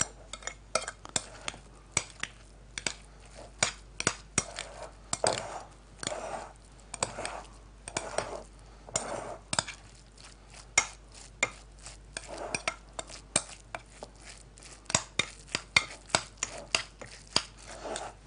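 Repeated scraping and clinking of a utensil mixing rice into a thick mixture in a bowl, close and steady, with brief pauses.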